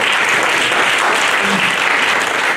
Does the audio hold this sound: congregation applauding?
yes